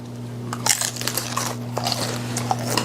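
Close, crisp bites and crunching chews into a fried shrimp wonton dipped in hot sauce, a few sharp cracks followed by softer mastication over a steady background hum.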